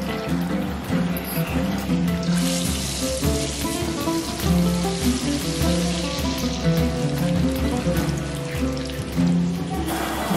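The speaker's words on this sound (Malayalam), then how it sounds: "അപ്പോൾ നമുക്ക് ആദ്യം ചെമ്മീൻ ഒന്ന് പൊരിച്ചെടുക്കാം" Prawns deep-frying in hot oil make a continuous close sizzle with bubbling crackle and liquid trickling, steady throughout with no voices.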